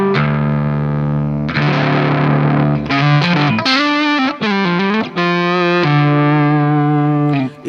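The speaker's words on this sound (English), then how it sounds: "Cat is a very legendary type of distortion." Electric guitar played through an Amplitube X-Drive cat-style distortion into a high-gain amp: thick, saturated sustained chords and bending lead notes, loud and close, with brief gaps between phrases.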